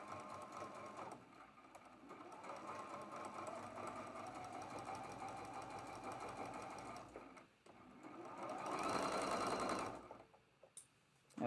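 A sewing machine stitches a seam on a quilt block in steady rapid whirring runs, faint and close, pausing briefly before a louder final burst.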